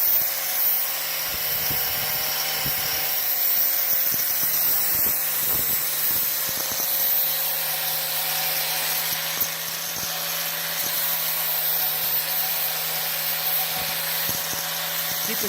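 A 4.5-inch angle grinder with a 60-grit flap wheel rounds a metal edge for a hot rod door handle, a steady high whine with scraping grinding bursts, close and continuous.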